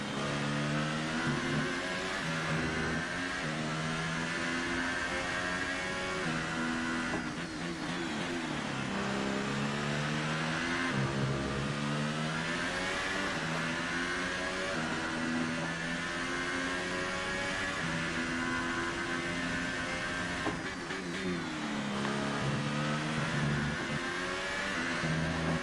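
Race car engine in a racing video game revving and accelerating continuously, a loud mid-pitched whine sweeping up and down through gear changes for about 25 seconds, steady and close with no talk.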